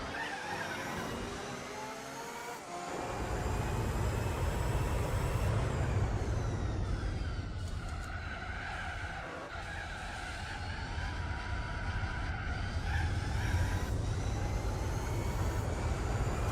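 A turbocharged Suzuki Escudo races in Gran Turismo 4 at Fuji, its engine a steady loud drone that climbs and shifts in pitch over a continuous low rumble, with tire and wind noise and no talking.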